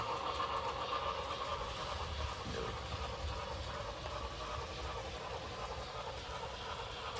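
A model train runs around a home layout, its steady low motor hum and faint clatter continuing without pause as it picks up a little speed.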